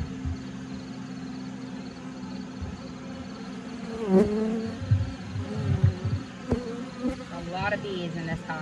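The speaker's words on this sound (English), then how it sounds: "A lot of bees in this hive." Bees buzzing inside an open horizontal hive during an inspection, a steady close hum with individual bees zipping past the microphone in swelling, wavering buzzes, growing louder partway through.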